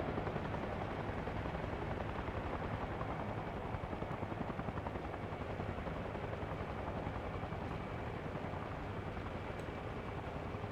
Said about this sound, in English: Oh, I got in the chopper just before it left.